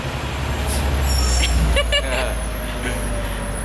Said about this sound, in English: that truck struggles with staying quiet too